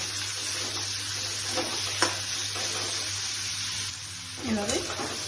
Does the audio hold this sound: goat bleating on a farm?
no